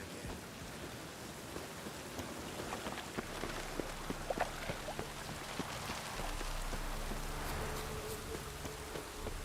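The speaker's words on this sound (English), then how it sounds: "witches conjured rain again." Rain falls steadily in a video game, a continuous soft hiss with scattered drop ticks and a faint low hum, moderately quiet and without talk.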